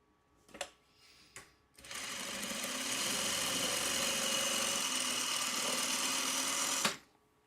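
A sewing machine stitches quilt pieces for a Farmer's Wife quilt top, running in a steady, loud, continuous whir for about five seconds after a few brief clicks and taps, then stopping abruptly.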